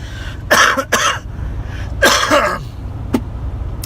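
Several harsh coughs come in quick bursts, a pair early and another cluster shortly after, close and loud over a low background hum.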